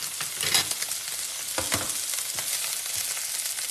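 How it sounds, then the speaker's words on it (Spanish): Beef entrecote sears in a pan over high heat, a dense, loud sizzle with a few scraping stirs and bumps from moving the meat. "Entonces pongo la carne y la salteo a fuego vivo, así."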